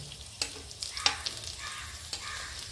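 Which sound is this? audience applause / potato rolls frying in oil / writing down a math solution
potato rolls frying in oil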